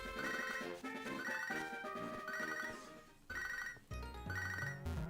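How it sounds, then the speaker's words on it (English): A phone ringtone plays a bright repeating electronic melody, loud and continuous, with brief breaks between phrases and no talking. "Do you guys like phone ringing noises?"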